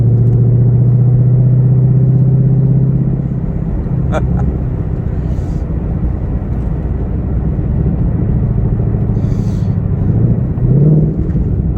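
A 2020 Ford Mustang GT500 rumbles loud and close during a launch, a heavy engine roar that eases into a sustained rough growl with tire noise, swelling again toward the end.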